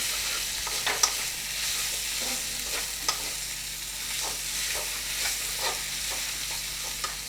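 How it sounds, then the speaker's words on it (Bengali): Egg korma masala with fried onions stirred in hot oil: a steady sizzle with scattered scraping spatula strokes against the pan, close and continuous, no voices. "এর মধ্যে ভেজে রাখা বেরেস্তা আমি কিছুটা দিয়ে দিলাম, দিয়ে আবারও একটু নাড়তে থাকলাম"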